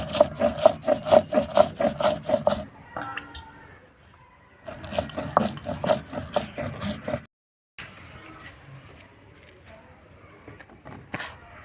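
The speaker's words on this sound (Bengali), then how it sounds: "এবার কালো সর্ষেটা বেটে নেব" Black mustard seeds are ground by hand with rhythmic, gritty scraping strokes, close and fairly loud. The strokes come in bursts separated by quieter pauses and a brief silence.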